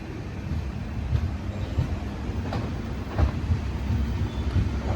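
Train 48, the Thiruvananthapuram Central Express, rolls into Vadakkanchery station, heard from inside a sleeper-class coach as a steady, moderate rumble with faint periodic knocks of wheels over rail joints.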